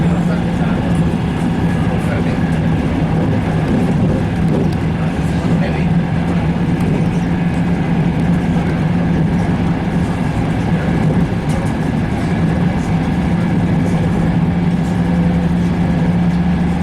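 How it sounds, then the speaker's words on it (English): Italian high-speed bullet train heard from inside, a steady low rumble and rolling hum throughout with no break. "Like the Italian bullet train."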